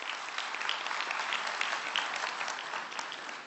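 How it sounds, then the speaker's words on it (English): A large audience at a forum's closing ceremony claps steadily, producing a dense, continuous patter of applause at moderate volume that lasts throughout with no speech above it. "Would you please give him a big round of applause?"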